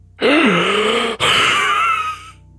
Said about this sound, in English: a great and urgent need to draw breath and exhale, sharply, as such